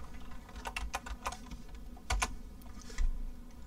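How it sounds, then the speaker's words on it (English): Computer keyboard typing programming code, with a handful of distinct, close key clicks in uneven bursts over a quiet background. "Let's type try."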